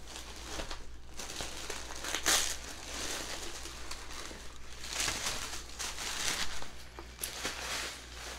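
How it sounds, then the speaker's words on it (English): Packaging on an accessories subscription box is peeled open with close crinkling and rustling plastic, plus a few sharp tearing bursts, steady and fairly quiet with no voice. "We're gonna peel this back and see."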